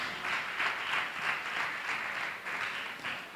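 A church congregation claps together during a Sunday service in steady, rhythmic bursts, a roomful of hands beating along in waves with no talking over it.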